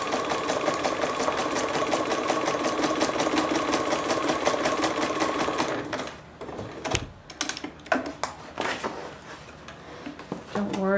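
A sewing machine stitches a seam on a paper envelope at a fast, even rapid-fire rhythm for about six seconds, then stops, followed by handling clicks and rustles; a person speaks nearby.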